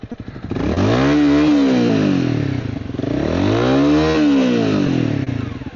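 A motorcycle engine revs hard twice, rising and falling loudly and close while its broken clutch fails to engage in first gear on a mountain road trip in the Carpathians.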